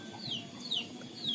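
A sick chicken with snoring, runny-nosed breathing and foul breath clucks in a coop, three short repeated calls fairly close and moderately loud over low background noise.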